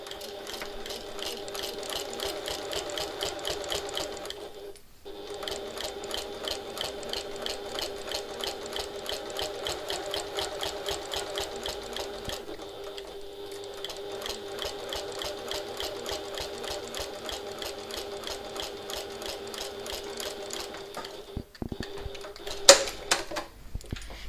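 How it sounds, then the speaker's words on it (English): A sewing machine runs a handbag seam at a very narrow allowance, its quick, even stitching rattle continuing near and steady with a few short pauses and a small clunk near the end. "I'm going to sew with a really, really, really close seam allowance"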